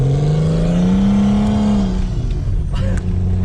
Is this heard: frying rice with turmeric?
no